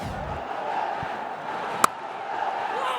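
A large cricket stadium crowd at a Bangladesh vs Pakistan T20 international roars steadily in a broad, sustained wash of cheering, with one sharp clap-like crack partway through.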